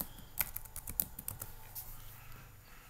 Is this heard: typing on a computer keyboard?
yes